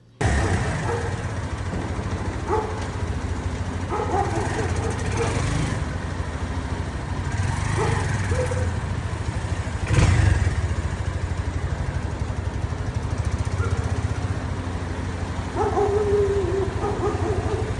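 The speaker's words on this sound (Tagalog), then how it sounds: "Ang lakas ng makina niya." Continuous low rumble of a Kawasaki Barako 175 motorcycle engine with a sidecar idling nearby, steady throughout, with intermittent dog barks and brief revs.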